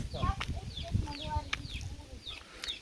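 Chickens clucking and calling repeatedly inside a fenced yard, with short bird-like chirps scattered through and low murmurs of people talking under them at moderate distance.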